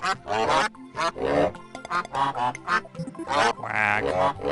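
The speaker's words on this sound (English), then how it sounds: "Stupid duck cut me off." A duck quacks over and over in short, loud bursts, heard from a played video and close to the listener.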